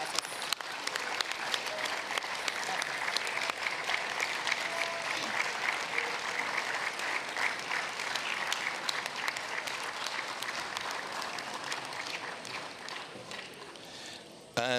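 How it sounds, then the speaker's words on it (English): Delegates of the Inter-Parliamentary Union Governing Council in an assembly hall in Kigali give sustained applause, a dense, even patter of many hands continuing for about fifteen seconds at moderate distance. "a specific applause from all the Governing Council"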